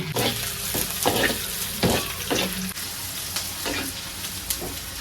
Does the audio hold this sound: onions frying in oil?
yes